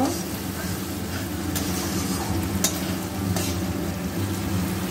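A paste of cashews and raisins frying with spices in a pan of oil for Kashmiri aloo dum, a steady sizzle with a few sharp scraping strokes of stirring.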